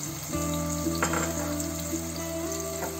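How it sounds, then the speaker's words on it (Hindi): Ginger garlic paste fries in a pan for dal makhani, making a steady close sizzle with a low hum and a few soft stirring scrapes. "अब इसको हमें अच्छी तरह से भून लेना है।"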